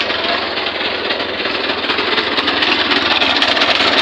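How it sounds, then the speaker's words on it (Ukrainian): A small engine runs on gas fed through a stove regulator fitted to its carburetor, a loud, steady, rattling drone with rapid knocking pulses, continuous and close with no pauses. "Зараз я відкриваю, відкриваю газ і побачимо з газом."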